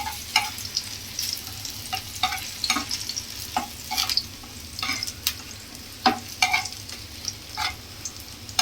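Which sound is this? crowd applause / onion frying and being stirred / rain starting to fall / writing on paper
onion frying and being stirred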